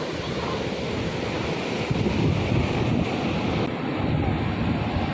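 A swollen monsoon river rushes powerfully past a crowded bathing spot in a steady, loud broadband roar, with wind buffeting the microphone and no clear talk.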